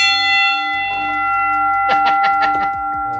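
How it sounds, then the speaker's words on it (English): A bell given as a Hall of Fame gift rings out at close range, with sustained ringing tones followed by a flurry of bright, quick strikes and resonant decay. "We call it the birthday bell too."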